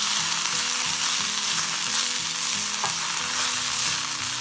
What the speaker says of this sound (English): The idea is to wilt the leaves a little bit, not really to fry and cook them a lot.